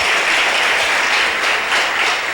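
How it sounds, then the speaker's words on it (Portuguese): A church congregation applauds in unison during a deliverance service, steady dense clapping filling the space without pause. "Dá um aplauso de recebedor em nome de Jesus"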